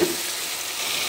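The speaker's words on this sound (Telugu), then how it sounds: "ఆయిల్ వేడికి ముక్కలు ఇలా వేసేసుకుని ఫ్రై చేసుకోవాలి" Bottle gourd pieces sizzling in hot oil in a pan, a brief, close, steady crackling hiss.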